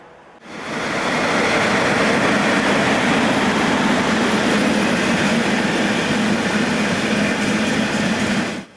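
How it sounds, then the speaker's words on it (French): A Deutsche Bahn InterRegio train pulling into Eisenach station in 1996, a loud sustained rolling rumble and roar that rises quickly and holds steady before cutting off. "Un interrégio de la DB entre en gare."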